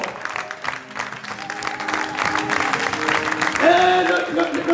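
A church congregation bursts into applause and cheering for Jesus, a sustained wash of clapping and voices that swells toward the end, with a few shouts rising above the crowd.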